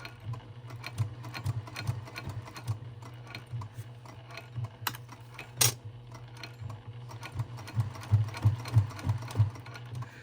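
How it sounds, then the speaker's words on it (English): A sewing machine back stitches an in-the-hoop zipper placket, its needle ticking in slow, quiet bursts of rapid taps with brief pauses and a couple of sharp clicks in between. "I'm going to take one step forward and then back stitch just one."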